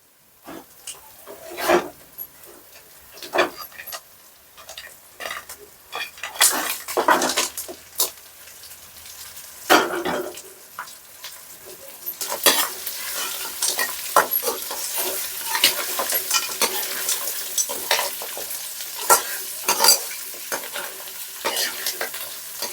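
Pre-boiled crabs stir-fried in a pan with tomato, onion and ginger-garlic paste, sizzling steadily while a spatula scrapes and stirs in repeated strokes, the frying growing louder and denser toward the end, with no talking.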